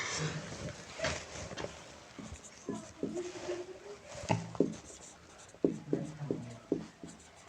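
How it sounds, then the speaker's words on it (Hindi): Chalk or marker taps and scrapes against a classroom board as a maths question is written out, an irregular run of short strokes and squeaks, close and fairly clear over a faint room background. "पहले हम सवाल नंबर 2 को लिख लेते हैं बच्चों"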